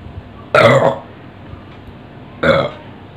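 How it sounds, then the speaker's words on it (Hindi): Two loud, close burps about two seconds apart, the first longer and rougher, performed as part of a count-the-burps challenge; no talking. "तीन बार डकार हो गई"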